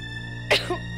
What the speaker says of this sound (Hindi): मेरी खांसी की आवाज सुनी होगी